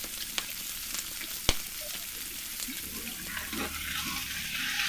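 Onion, garlic, dried red chilli and curry leaves frying in oil, a bright continuous sizzle close by with a few sharp spatula taps and stirring scrapes, no voices.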